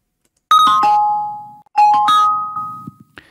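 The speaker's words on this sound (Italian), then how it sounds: "ha fatto un campanello sia a destra che a sinistra, quindi con un audio stereo" A bell-like doorbell chime sounds during a stereo test of the left and right speakers. The clear ringing notes come twice in a row, with a brief silence between them and a faint tail at the end.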